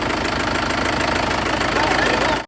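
A tractor engine runs through floodwater in Upper Assam, a loud, close, steady knocking rumble that carries on without a break and then cuts off abruptly.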